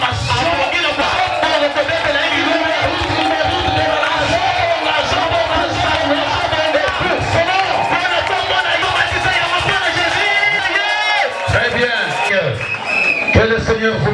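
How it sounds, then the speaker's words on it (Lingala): Congregation at a Sunday church service cheers and shouts acclaim, a loud, dense crowd roar with whoops over music and voices, continuous throughout. "Il mérite nos acclamations."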